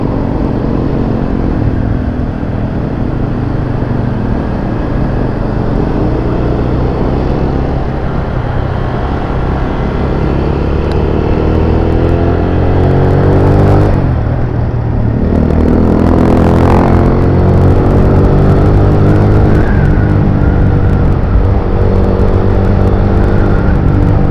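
Busy road traffic with cars and motorcycles passing close by, a steady loud engine drone with engines revving and rising whines as vehicles accelerate, building in intensity midway through.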